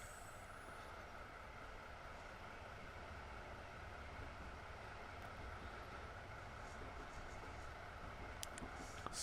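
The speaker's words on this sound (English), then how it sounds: "So that train has arrived." A train arriving in Train Simulator Classic on a Japanese route, heard as a steady, continuous rumble of wheels and engine noise with faint high squeaks near the end, with no talking.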